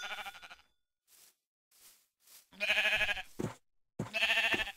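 Repeated loud, close Minecraft sheep bleats come in wavering bursts, separated by soft rustling game sounds and brief silences.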